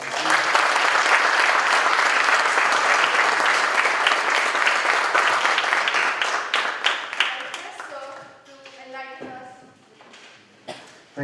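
An audience claps in a sustained, loud round of applause for a speaker at a college festival, then tapers into scattered claps as a voice begins speaking.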